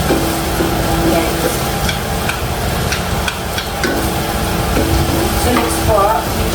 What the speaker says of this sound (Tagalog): Maingay kasi maingay yung stainless na spatula.